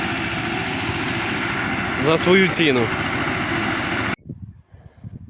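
A T-25 tractor engine drones loudly under a man's speech in an orchard, then cuts off abruptly near the end, leaving quieter outdoor noise.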